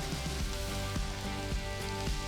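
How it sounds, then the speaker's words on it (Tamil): Onions and tomatoes sautéing in a pan for a potato and green pea curry, giving a steady close sizzle with soft clicks and stirring knocks throughout, no talk. "வெங்காயம் 2-3 நிமிஷம் வதங்கினதும் பொடிசா நறுக்கி வச்ச 3 தக்காளி சேர்த்துக்கலாம்."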